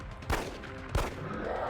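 Two sharp pistol shots in the XCOM: Enemy Unknown game, spaced about two-thirds of a second apart, each a loud crack over steady background game ambience.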